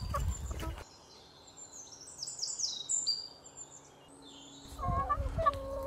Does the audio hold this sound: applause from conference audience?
no